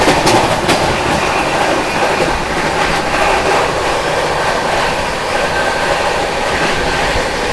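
The 12487 Jogbani–Anand Vihar Seemanchal Express runs on the rails with a loud, steady rumble and rhythmic clickety-clack of wheels over joints, sustained throughout with no voices.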